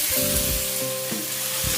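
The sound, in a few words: chili and tomato sizzling while being stir-fried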